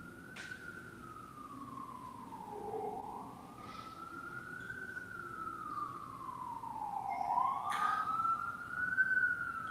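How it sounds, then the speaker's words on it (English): A wailing police siren rises and falls slowly in the distance, faint and steady over low traffic rumble. "you guys actually made me conscious about the police sirens"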